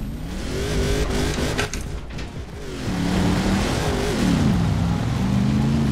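An Audi RS engine races in Forza Horizon 4, a steady, loud roar that rises and shifts pitch as the car accelerates through gears, with a brief dip before climbing again.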